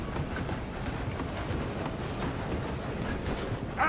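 A train in Red Dead Redemption 2 rolls along with a steady, continuous rumble and clatter of railcars. Hoofbeats mix in, and the sound stays close and fairly loud throughout.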